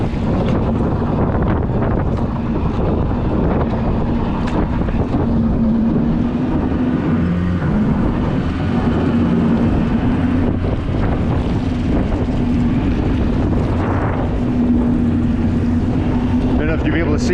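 A Stabicraft 2050 Supercab boat runs through rough, rolling waves on the Sound, with a steady motor drone under heavy, constant wind buffeting the microphone. Loud and close throughout.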